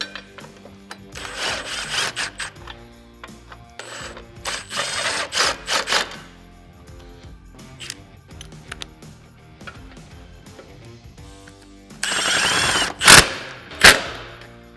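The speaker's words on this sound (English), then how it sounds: "we're going to fully tighten the hardware." Power tool driving winch mount hardware tight on a Polaris RZR XP, heard as several loud, close whirring bursts of a few seconds each, separated by quieter gaps, with sharp hammering impacts toward the end.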